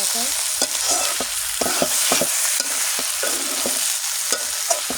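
A mixed vegetable fry is stirred in a hot pan, with a constant sizzle broken by repeated spatula scrapes and knocks coming every half second or so, close and alone.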